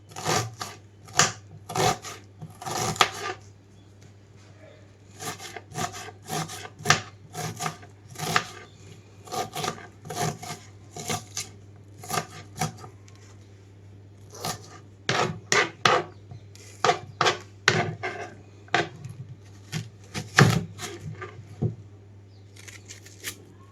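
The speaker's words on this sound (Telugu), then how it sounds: "ఇలా ఉల్లిపాయలన్నీ కూడా చిన్నగా కట్ చేసి పక్కన పెట్టుకుంటున్నాను" A knife cuts onions into small pieces on a board in a home kitchen while an egg keema curry is being prepared; close, sharp chops come in quick bursts with short pauses between, and no one speaks.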